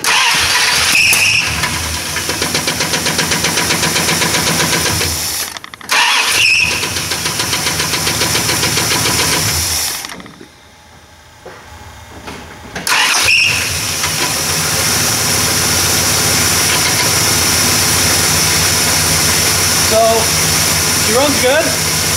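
A Mopar engine fitted with a points ignition conversion cranks and starts, then idles with a rough, loud running sound. It drops out briefly at two points and once goes near silent, then keeps running steadily.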